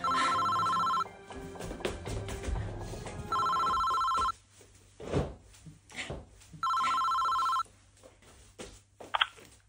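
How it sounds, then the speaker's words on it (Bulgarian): A telephone rings in three separate bursts with pauses between them, during a staged Halloween party scene, while quieter movement and room sounds fill the gaps. "О, не! Майката на Беки се обажда."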